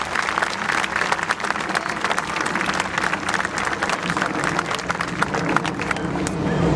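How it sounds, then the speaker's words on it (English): Crowd applauding outdoors at a remembrance walk, a broad, steady wash of many hands clapping that holds at an even loudness for several seconds, with faint murmuring mixed in. "Let's give them a round of applause for the work they've put on."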